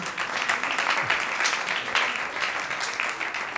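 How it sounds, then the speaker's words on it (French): Audience clapping at a musical gathering honoring a Comorian singer, a steady wash of applause from a small crowd lasting a few seconds. "Applaudissements, s'il vous plaît."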